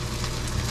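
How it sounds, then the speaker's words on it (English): Spicy Spam sizzles and fries in a pan, a steady close crackling hiss that holds evenly with no talking over it. "You can hear that Spam sizzling."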